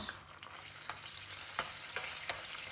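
Spoonfuls of garlic frying in oil for mango pickle, a soft, constant sizzle with several sharp crackles and pops.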